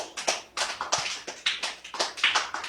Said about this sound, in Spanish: que le dé un aplauso al Señor Jesús